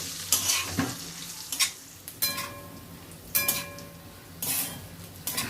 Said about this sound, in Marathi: मिक्स करून घेऊया चांगलं